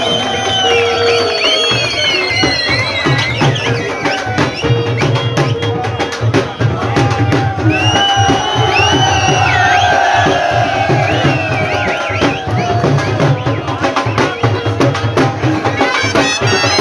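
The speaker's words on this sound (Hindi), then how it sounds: "सारे दोस्त खड़े हैं इस्तकबाल के लिए तालियां" A dense crowd cheers, whoops and shouts in welcome at a Khuiratta event, loud and sustained throughout, with voices calling out over the din.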